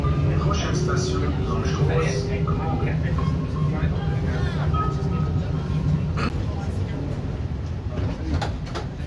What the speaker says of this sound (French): le trajet de tram